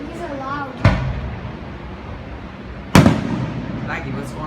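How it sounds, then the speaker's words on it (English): Fireworks explode at a beach, two sharp, loud bangs a couple of seconds apart, each followed by a brief rumbling tail, while voices talk in the background. "Fireworks."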